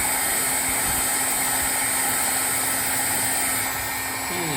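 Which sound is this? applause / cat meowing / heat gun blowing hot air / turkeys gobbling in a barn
heat gun blowing hot air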